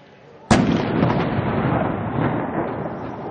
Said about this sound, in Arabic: تفجير دبابتين لعصابات الأسد على مدخل المدينة الشرقي